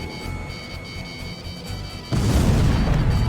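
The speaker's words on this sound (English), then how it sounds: "Missile hit." A missile striking an enemy aircraft in the flight combat game Ace Combat Zero, a sudden loud deep boom that cuts in over the steady engine drone and rolls on to the end.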